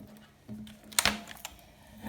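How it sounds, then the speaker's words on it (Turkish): Plastic keycap clicks and scrapes on an Ajazz AK33 mechanical keyboard, a few soft taps followed by a sharper pop as the cap is pulled free, all quiet and close. "Böyle tuşumuzu kenardan alıyoruz. İçine soktuğumuzda zaten çektiğimizde tuş şeyle birlikte çıkıyor."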